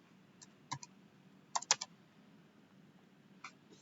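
Sparse keystrokes on a computer keyboard while entering a layer name in AutoCAD: a few crisp, close clicks in small clusters separated by quiet gaps.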